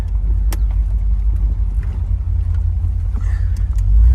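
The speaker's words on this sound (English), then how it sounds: "Motor sounds good. Throttle response is instant." A 1982 Chevrolet Corvette engine runs steadily while driving, producing a continuous deep, close rumble with no speech over it.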